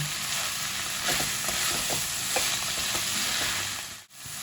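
Chicken momo filling fries in a pan, a steady close sizzle broken by several light scraping stirs, with a brief dropout near the end.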